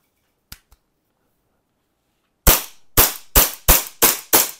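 An R501 gas airsoft pistol fires as its gas runs out: two faint clicks, a pause, then about seven sharp cracking shots in quick succession, each one weak and with a short fading hiss.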